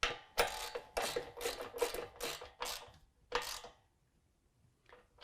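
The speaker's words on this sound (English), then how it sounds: "Now we can tighten up our rear bracket." Mechanical clicking from a ratchet tightening the rear running board bracket bolts on a Toyota Tacoma during a Havoc HST black running board install, with close, rapid bursts of clicks in a steady rhythm followed by faint taps.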